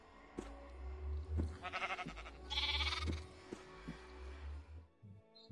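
Sheep bleating in a Minecraft-style survival video game, several bleats in a run over a steady low game-music hum, fairly close and moderately loud.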